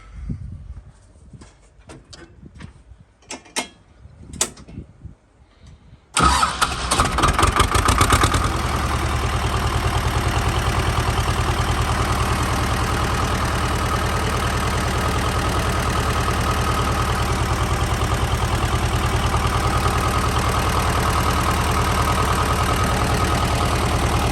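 T-25 tractor engine cranking over after a few scattered knocks and handling sounds, then catching abruptly and settling into a loud, steady, evenly chugging idle that continues to the end.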